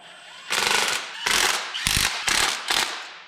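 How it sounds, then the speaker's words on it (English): A 3/8-inch Milwaukee impact wrench running spark plugs into a junkyard small-block engine, five short loud rattling hammer bursts in quick succession, close up with no talking. "Ram them home with the 3/8 Milwaukee impact."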